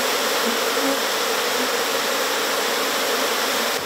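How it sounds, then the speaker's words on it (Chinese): Wild honey bees swarm around their hive in a forest, a dense, steady buzzing drone that stays loud and close throughout. "把蜂群熏出来，然后找女王蜂"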